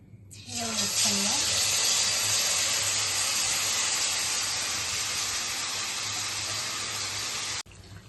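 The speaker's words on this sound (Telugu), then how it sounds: "స్టవ్ మీడియం ఫ్లేమ్లో పెట్టుకుని ఇలా వేపుకోవాలి గారెలు" Palm fruit fritters (garelu) hit hot oil on a stove at medium flame and fry with a loud, steady, broadband sizzle that holds for several seconds before cutting off abruptly.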